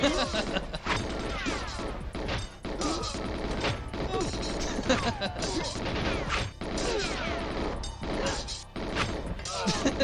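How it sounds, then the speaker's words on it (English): Enemies getting hurt and weapons firing in the 1997 shooter GoldenEye 007 make a busy stream of crashing impacts, thwacks and rapid shots that fill the whole stretch at a steady loudness. "I love how the sound effect of them getting hurt is still normal."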